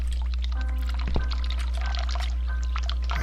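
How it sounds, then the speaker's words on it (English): Steady running water pours continuously in the game The Cat Lady, with a soft thud partway through and faint tonal hums in the background. "I can hear the water running."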